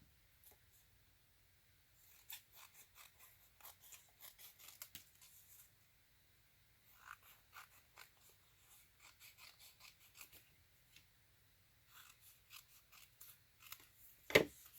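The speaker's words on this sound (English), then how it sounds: "I just trimmed off all of the margin pretty much." Faint close snipping of scissors trimming the margins off old book pages, coming in short bursts of quick cuts with brief pauses between them and a louder snip near the end.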